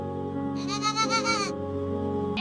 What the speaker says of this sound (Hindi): बकरी गांव के बाहर खेतों में अपने बच्चों को आवाजें देने लगी।